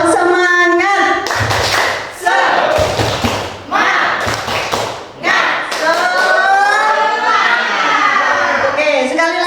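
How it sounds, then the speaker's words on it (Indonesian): A standing group of teachers doing a rhythmic spirit clap, patterned claps in sets mixed with loud chanting voices in a lively, close-sounding room. "Tepuk semangat"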